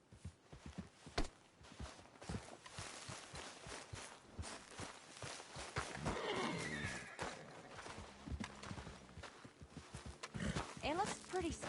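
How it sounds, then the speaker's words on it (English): Horse in the video game Red Dead Redemption 2, with repeated clip-clop hooves, snorts and a whinny near the end, mixed with game sounds and character speech. "you couldn't help me get my other horse back from over there, could you?"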